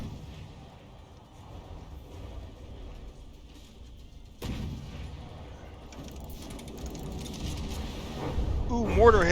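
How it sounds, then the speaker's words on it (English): Mortar shells strike a battleship in the naval combat game From The Depths, a sudden loud impact bursting in midway through a steady rumble of mechanical clatter, with more crashes building toward the end. "mortar hits on the reconnaissance"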